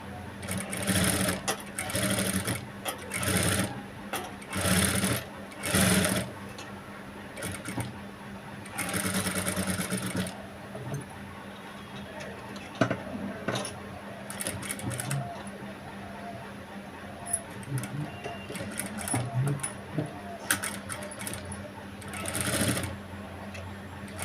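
A sewing machine with a normal presser foot runs in repeated short bursts, stitching thread piping onto a boat-neck garment, each whirring run stopping and starting with quiet pauses between, close and clear.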